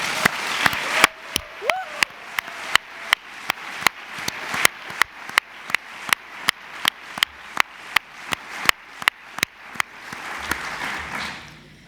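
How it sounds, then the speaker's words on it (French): Steady, rhythmic clapping from a small group welcoming guests at a film festival opening ceremony, dozens of evenly spaced sharp claps continuing for several seconds in a room. "Je propose qu'on les applaudisse pour leur souhaiter la bienvenue"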